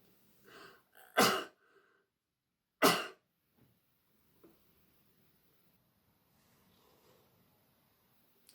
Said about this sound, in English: and then give a cough.